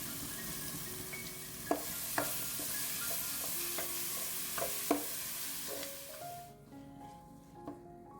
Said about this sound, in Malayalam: അതിലേക്ക് ഇഞ്ചി വെളുത്തുള്ളി പച്ചമുളക് ക്രഷ് ചെയ്തത് ഇട്ട് കൊടുക്കാം കേട്ടോ. അതും കൂടി നന്നായിട്ട് വഴറ്റിയെടുക്കാം